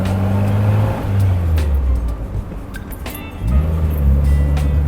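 An MG Midget Mk.IV convertible sports car engine revs and accelerates up close, its pitch climbing, dipping briefly, then climbing again under heavy wind and road noise.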